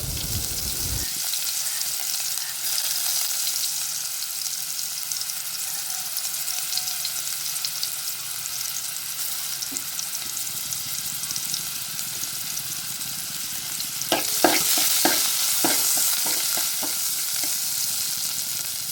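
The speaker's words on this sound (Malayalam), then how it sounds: "ഇനി നമ്മളിതിലേക്ക് ചീരുള്ളി ഇട്ട് കൊടുക്കുന്നുണ്ട്." Shallots fry in hot coconut oil in a pan, giving a steady, loud hiss that runs throughout, with a burst of crackling and stirring clatter near the end.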